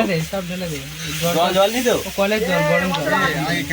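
About 3.5 kg of chicken sizzles loudly in a pan at an outdoor picnic cook-up, with a strong hiss beneath someone talking throughout.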